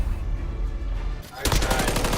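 Rapid automatic gunfire in a Battle of the Bulge shooter game bursts in loud and close after about a second of rumbling background noise.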